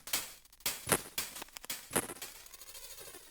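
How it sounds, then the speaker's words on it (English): An electronic music layer processed with a granular grain-swells preset: choppy, glitchy bursts in an irregular rhythm that smear into a shimmering, fizzy wash of tiny grains toward the end, with no talking. "You can really hear that like weird granular sound going on"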